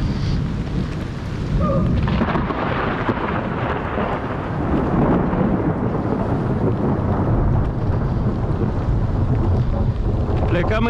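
Heavy rain and rumbling thunder from a storm hit cyclists who are touring the Oltenia region. A dense, loud roar with wind buffeting the microphone continues throughout, and voices can be heard faintly.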